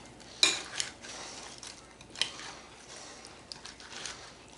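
Taco salad with Fritos tossed in a bowl, a few sharp clinks and scrapes of a utensil against the dish spaced over a quiet background, close and fairly soft, with no talk.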